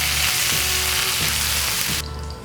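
Beef sizzles loudly on a samgyupsal grill, a dense crackling hiss that fills the first two seconds and then drops to a softer, duller fry, with no voices.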